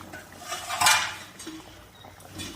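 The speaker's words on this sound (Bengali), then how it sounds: "ঢাকনাটা এখন 15 মিনিট পরে খুলে নিলাম" A metal lid comes off a pot of fish curry that has simmered covered for fifteen minutes, a short clatter and clink at close range, with softer scraping pot sounds afterward.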